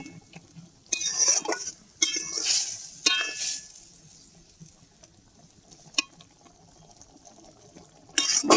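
Fried okra stirred in a pan of spicy sesame masala: a spoon scrapes and clatters in several sharp, separate bursts over a quiet, faint sizzle, close up and without talk.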